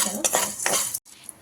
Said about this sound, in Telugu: ఇప్పుడు దీంట్లో ధనియాలు, ధనియాలు సో అది కూడా వేసేసి ఫ్రై చేసుకోవాలి